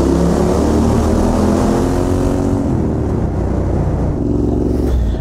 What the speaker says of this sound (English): this is what unbaffled Volkswagen Beetle tailpipes sound on a scrambler